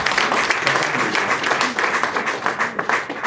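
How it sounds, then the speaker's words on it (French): A crowd at a Forever Living Togo gathering applauds, a loud, close burst of many hands with an uneven, slightly pulsing rhythm that carries on throughout. "Une fois encore, on applaudit ce monument de votre."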